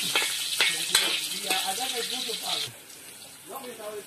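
Garlic sizzling in a pan on a small stove burner while pipián is cooked, a steady close hiss under voices talking throughout.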